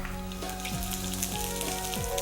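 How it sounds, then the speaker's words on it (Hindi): Finely chopped ginger sizzles in hot oil during a Schezwan chicken stir-fry, a steady, close crackling hiss with faint occasional clinks, continuous across the whole moment with no talk. "तेल हमारा अच्छी तरह से गर्म हो गया है। अब सबसे पहले इसमें डालेंगे बारीक कटा हुआ अदरक"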